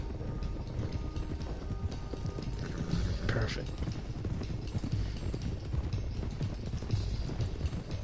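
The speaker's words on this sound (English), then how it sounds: "let's get these horses to Clemens Cove quick before we run into any more trouble." Horse hooves clip-clop steadily in Red Dead Redemption 2 as a small herd is driven along a trail, a busy rhythmic clatter under ambient game sound, with someone speaking briefly.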